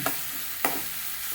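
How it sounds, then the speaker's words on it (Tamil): Onions sauté in a pan for a roasted gram chutney, a steady frying hiss punctuated by two sharp stirring clacks from a spoon against the pan. "வெங்காயம் நல்லா வதங்கட்டும்"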